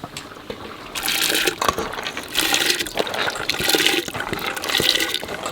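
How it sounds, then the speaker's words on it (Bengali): Chana dal tipped into a pot of hot water while cooking for Laxmi Puja, a steady splashing gush with bursts of pouring water, close and fairly loud, no talk. "জল গরম হয়ে গেছে, এখন ডাল দিয়ে দেবো"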